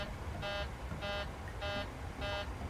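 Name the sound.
cockpit alarm in PMDG 737-800, Microsoft Flight Simulator 2020 video game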